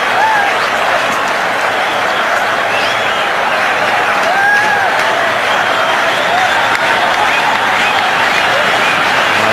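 A large stadium crowd roars and applauds continuously, a dense, loud wash of cheering and clapping that holds steady throughout.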